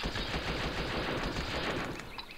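Rapid gunfire from the 1999 Windows shooting game Moorhuhnjagd rattles in a dense, continuous burst of loud shots, tapering slightly at the end.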